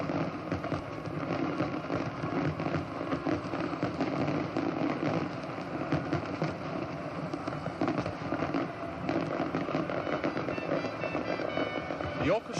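Fireworks bursting over Sydney Harbour for the Royal Australian Navy's 75th anniversary review, a dense continuous crackle and rumble of explosions with orchestral music mixed underneath.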